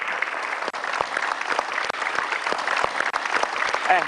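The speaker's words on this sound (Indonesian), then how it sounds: "Yeay, tepuk tangan." An Indonesian television studio audience claps hands in a steady, full burst of applause that runs evenly throughout with no voices over it.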